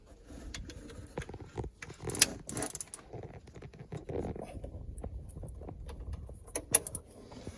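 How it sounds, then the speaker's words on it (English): Wrench work on the serpentine belt tensioner of a Peugeot 208, with the belt being removed: close clicks, ratcheting and metallic clatter scattered through the clip, with a few sharper knocks and no talking. "So lift up on the tensioner and take the belt off like so, and then just release it slowly."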